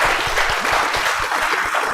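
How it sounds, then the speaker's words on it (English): Audience applause for children who have just finished meditating at a temple service, a dense, steady burst of clapping that fills the whole moment without any voices. "Big applause for our children meditators."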